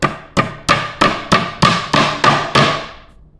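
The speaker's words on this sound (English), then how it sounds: "Take another drive fastener, put it in the hole, take our hammer and secure it." A hammer taps drive fasteners into a nightstand being assembled, giving eight sharp, evenly spaced strikes, each with a short ringing decay, loud and close with no talking.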